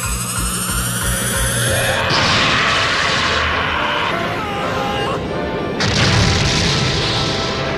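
Master Roshi's strongest energy attack in the anime film Dragon Ball: The Path to Power: a loud, sustained roaring blast with booming impacts and a fresh surge of force near the end.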